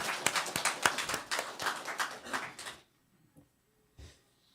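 A church congregation at a Sunday morning service claps together in a burst of brisk, uneven handclaps that stops abruptly, leaving near silence with a couple of faint knocks.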